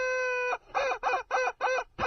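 A rubber chicken squeezed repeatedly: one long, sustained honking squawk, then four shorter, evenly spaced squawks, loud and close with no talking.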